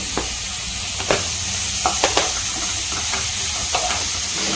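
Cut green capsicum frying in a hot pan for a violet cabbage breakfast dish, a constant close sizzle broken by several sharp spatula scrapes and taps as it is stirred.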